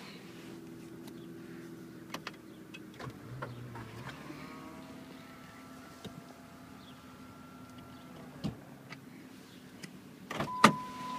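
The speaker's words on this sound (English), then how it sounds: "Put the top down on this car." A 2003 Ford Mustang convertible lowers its power top. An electric motor whines steadily for several seconds, with faint clicks and latch thumps near the end, close up and with no talking.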